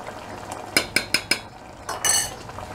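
A metal spoon clinks several times against a cooking pot, rinsed in water while preparing a tuna mould; four sharp, evenly spaced taps close up, followed by a brief scraping rattle, with no talking.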